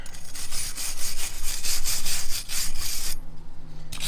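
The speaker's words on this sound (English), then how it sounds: "We're just going to take a wire brush here and just try and clean some of the gunk out" Wire brush scrubbed hard across a 2014-2018 Jeep Cherokee KL front wheel hub to clear gunk, a close, continuous rasping with rhythmic strokes that stops briefly near the end.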